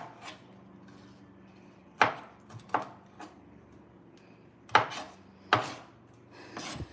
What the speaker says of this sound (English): I'm sure there's a better way to be cutting this or holding the knife